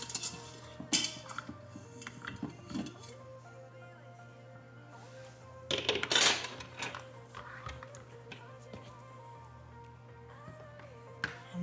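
A hot pot is opened and cooked egg bites are lifted out for a packed breakfast: quiet, scattered metallic clinks and scrapes of cookware and utensils, with a louder clatter partway through, over a steady low hum.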